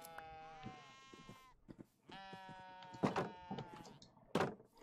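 Sheep bleat in a Minecraft-style game, two long wavering bleats in succession followed by a few shorter knocking and thumping sounds, fairly faint overall.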